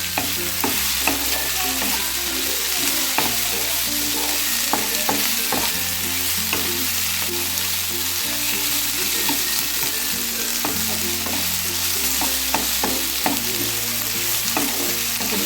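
Tomatoes sautéing in a pan as the base for egg kurma, a loud continuous sizzle and hiss with frequent spatula scrapes and taps throughout, close up and without voices.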